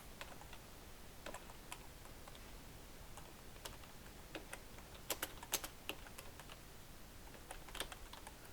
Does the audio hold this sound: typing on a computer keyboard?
yes